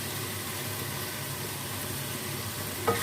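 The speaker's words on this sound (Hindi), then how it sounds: "खड़े मसालों को भी हम गोश्त में अच्छी तरह से भून लेते हैं।" Goat meat and whole spices frying in a karahi, a steady broadband sizzle running unbroken throughout with a small clink near the end.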